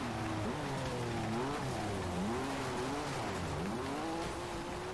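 BMW Z4 race car in the rally racing video game Dirt 2, its engine revving and shifting loudly and continuously with rising and falling pitch, other cars and tire noise mixed in.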